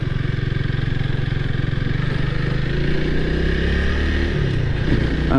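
A 2022 Honda Rebel 300 motorcycle being ridden, its engine droning steadily and fairly loud as it pulls through the gears. Wind rush runs underneath, and the pitch rises and shifts near the end.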